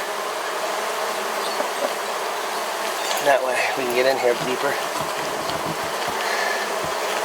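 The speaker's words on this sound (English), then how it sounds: "just look at how many bees are in here working on all these" Honey bees buzz steadily around open hive frames holding shiny nectar and capped honey, a dense close insect drone running throughout while a person talks over it.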